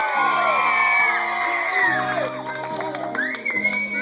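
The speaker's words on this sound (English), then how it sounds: "Somebody scream." Loud crowd whoops, yells and cheers at a bar event, several voices screaming together over background music, a burst of raucous shouting that carries through the whole stretch.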